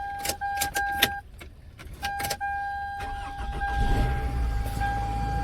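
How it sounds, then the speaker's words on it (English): A 2004 Toyota Camry, just programmed with a new key, gives a few electronic chimes and then its engine cranks and catches into a steady, low idle, with no talk over it. "Car starts up."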